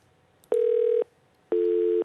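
Telephone line tones while a call is being connected on a live stock-market phone-in show: two steady, clear electronic beeps of about half a second each, separated by a short gap, with no talking.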